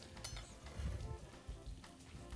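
Onion sizzles in a pan with a faint, steady frying hiss and occasional soft stirring scrapes, quiet and close.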